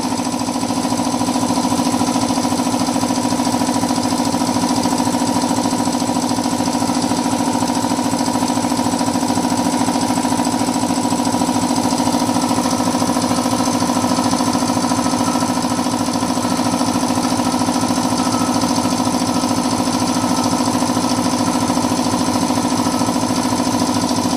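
Stanley 190 lpm and Blackridge BRC 155 lpm belt-drive air compressors running together, a loud, constant mechanical drone with steady hum and rattle that holds unchanged throughout.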